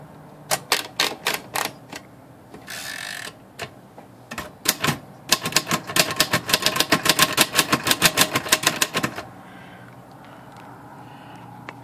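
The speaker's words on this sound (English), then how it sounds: "Let's type a little bit on it, and then we'll show you how everything else works." Typing on a Royal Futura 800 vintage manual typewriter: bursts of sharp, close key strikes, a brief carriage rasp, then a long fast run of clacks that stops and leaves low room noise.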